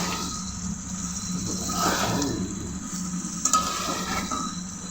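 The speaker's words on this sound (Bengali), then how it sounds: "মাংস কষানো হচ্ছে" Chicken and potatoes sauté in a pan, giving a continuous moderate sizzle with soft stirring scrapes and a light clink of utensil against the pot.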